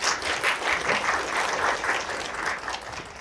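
An audience claps steadily for several seconds, a dense, even wave of applause with no talking.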